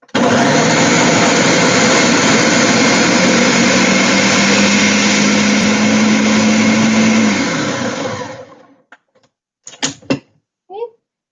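A blender churns frozen vegetables with oil in a loud, steady roar that holds for about eight seconds and then spins down, followed by a few short knocks and clatters.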